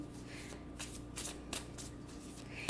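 Tarot cards being shuffled close by, a series of soft riffling swishes and snaps in uneven bursts against a quiet room hum.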